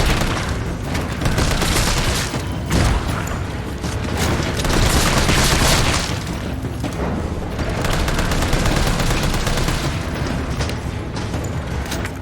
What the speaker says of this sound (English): So this is that part of the game where you just shoot.